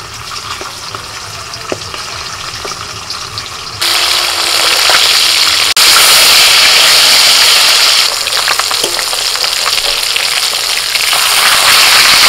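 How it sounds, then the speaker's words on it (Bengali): Pieces of pond silver carp drop into hot mustard oil in a kadai and set off a loud sizzle that jumps sharply and keeps crackling steadily to the end, with no voices. "তেলটা গরম হয়ে গেছে, এবার মাছ দিয়ে দিচ্ছি।"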